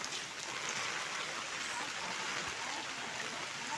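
Floodwater after Cyclone Remal, a faint continuous rushing and splashing of water like a stream, steady and distant-sounding, with no clear talking.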